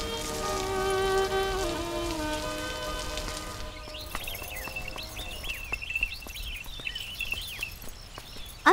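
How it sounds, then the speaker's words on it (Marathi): Rain falls steadily in a Marathi film scene, a soft patter of scattered drops that follows a stretch of music and carries under faint bird chirps. "बरसणारा पाऊस, मोहक स्वप्नात हरवणारा पाऊस"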